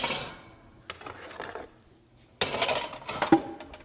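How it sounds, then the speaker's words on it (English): A metal oven tray is set down in a kitchen, giving a sudden loud clattering clank after a few quieter knocks and rattles, close by with no speech. "Put the oven tray down for the cookies."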